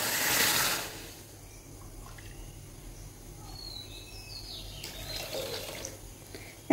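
Water splashes briefly into a pan holding a cup of sugar for syrup: a short loud pour at the start, followed by a faint, quiet room background.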